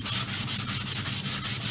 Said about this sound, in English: the only way of sanding these is actually by hand.